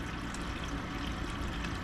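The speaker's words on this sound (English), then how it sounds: "I'm going to drain the cold water tank from the top here and get rid of any of the cleaning water that I used" Water draining from the cold water tank of a water cooler after cleaning, a continuous soft trickling and pouring flow, faint and steady with no talk.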